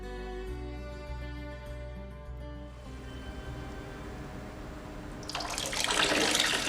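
Water pours into the reservoir basin of a New Haven fountain during filling, a steady rush that grows louder and brighter toward the end, with soft tonal background music at the start.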